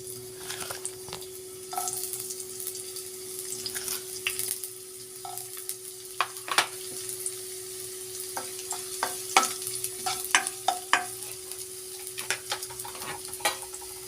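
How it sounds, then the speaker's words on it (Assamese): Onion sizzles in hot oil in a karahi, with a continuous soft frying hiss and frequent sharp scrapes and clinks of a spoon stirring against the pan, close and fairly quiet. "তেলখিনি গৰম হৈ গৈছে। এতিয়া ইয়াত মই অকণমান পিঁয়াজ দি দিছোঁ।"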